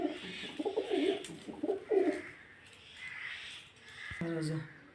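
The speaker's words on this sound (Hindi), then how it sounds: "कबूतर बहुत ही ज़्यादा बड़ा है, बहुत बड़ा कबूतर है।" A very large pet pigeon, a kept flying bird, coos in repeated soft rolling calls while someone talks nearby; other faint bird calls sit in the background.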